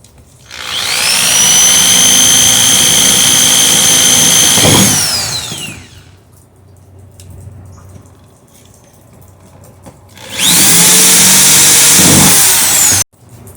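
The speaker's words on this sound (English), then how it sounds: "So let me drill the holes and get it ready." A power drill whines loudly for several seconds drilling holes in thick plastic for a still air box, pitch dropping as it stops, then after a quiet pause drills again in a second loud burst.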